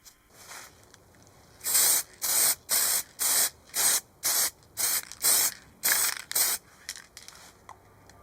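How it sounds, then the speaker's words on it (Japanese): Lacquer spray paint from a hardware-store aerosol can is being applied to small moped parts. A series of about nine short, loud hissing bursts comes close by in a steady rhythm, with no voices. "使ったスプレーは適当にホームセンターで買ったラッカースプレーです。"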